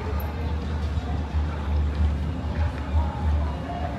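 A steady low engine rumble of boats heading out on the water at Cozumel, Mexico, heard from a cruise ship's fifth deck, continuous throughout with a busy outdoor background wash.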